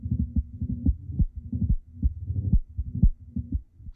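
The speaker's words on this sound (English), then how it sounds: "Let's start with a bandpass and listen to how this sounds." Ableton Live Auto-Filter in bandpass mode with a slow envelope, set around 800, shaping a low, throbbing pulse of repeated thumping hits with a steady rhythm, moderately loud and without any voice.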